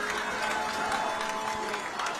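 A high school football crowd at Musselman in West Virginia cheers and claps steadily while being fired up from the sideline on third down, a dense, continuous roar of voices with bursts of applause.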